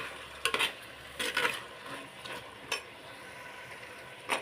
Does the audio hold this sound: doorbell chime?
no